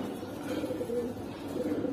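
Hurricane pigeon cooing in soft, continuous low rolling coos over about two seconds, close by and moderately quiet, with no talk.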